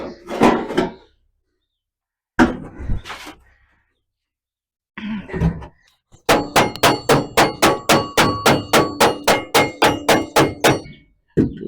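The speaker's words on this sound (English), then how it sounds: "Couple of passes with the hammer and we'll have it in place." A few scattered heavy knocks on metal, then a steady run of about fifteen rhythmic hammer blows ringing on sheet metal, shaping the floor of a 1960 Chevrolet Biscayne, close and loud.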